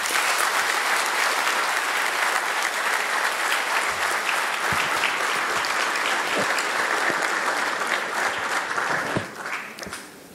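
At the ICPAK annual general meeting in 2019, a large audience applauds loudly and steadily for about nine seconds before the clapping thins out and fades.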